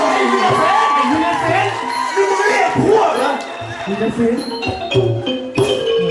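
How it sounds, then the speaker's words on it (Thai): Lively crowd at a Thai temple fair stage show, cheering, shouting and clapping loudly, with voices calling out over the noise throughout. "ปรบมือดังๆกันสักที"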